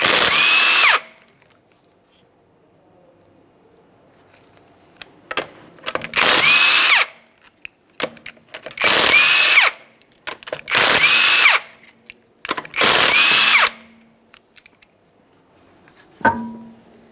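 A power tool, likely an impact wrench, spins off the five 19mm lug nuts on a 2012-2015 Honda Civic wheel, coming as five loud, separate bursts of a second or two each with short pauses between, mostly alone.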